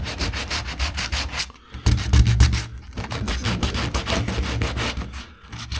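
A 1976 BMW 2002's painted body panel is scuffed by hand before repainting, giving a continuous rough rubbing and scratching in quick back-and-forth strokes, close and loud, with brief pauses between passes.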